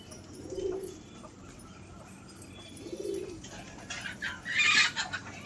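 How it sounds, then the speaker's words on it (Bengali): A pair of rosuni biscuit pigeons give soft, low coos at an even pace, quiet and close, with a brief higher chirp near the end. "এক জোড়া রসুনি বিস্কুট পায়রা দেখাচ্ছি তোমাদের।"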